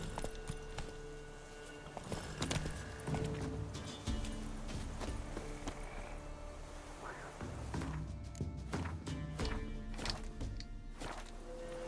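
Horse hooves clip-clop at a riding pace in The Witcher 3 video game, an uneven series of thuds mixed with game ambience and occasional sharper knocks.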